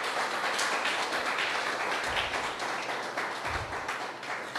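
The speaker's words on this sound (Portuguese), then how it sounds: "Então aplauda o Senhor aí no seu lugar." A church congregation applauds during a Portuguese-language sermon, making a dense, continuous wash of clapping that holds steady throughout, with a couple of low thumps underneath.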